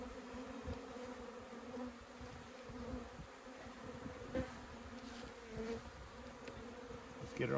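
Honeybees droning around an opened hive during a spring inspection, a soft continuous buzz with occasional nearer passes, faint and steady throughout.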